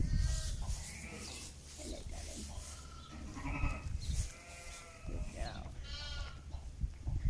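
A Kerry Hill sheep on a farm bleating, several wavering bleats close by, mixed with rustling and handling noise and a person talking nearby.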